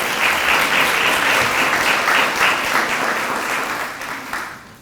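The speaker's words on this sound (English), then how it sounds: "Let's give her another round of applause." Applause for an inductee at a Greensboro induction ceremony: a crowd claps loudly and evenly, then fades out over a few seconds.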